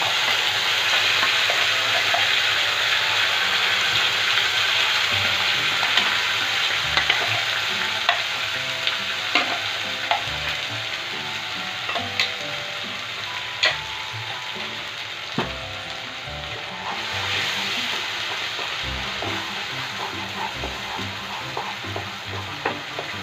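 A ground paste of onion, ginger, garlic, tomato, green chili and mustard frying in a pan for a pabda fish curry, a continuous loud sizzle with scattered scrapes and clicks of stirring throughout.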